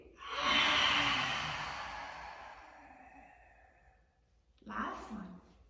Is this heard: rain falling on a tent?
no